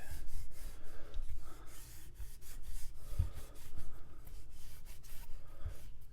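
A tack cloth rubs along a guitar neck in steady back-and-forth wiping strokes, a close, soft, continuous scuffing with a few light bumps.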